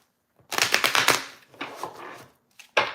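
A deck of tarot cards is riffled and shuffled nearby in two quick bursts of crisp, fluttering flicks, followed by a brief snap.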